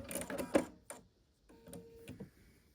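A sewing machine stitches quilt pieces together in short bursts of rapid mechanical clatter, loud at first and then quieter, with pauses between the runs.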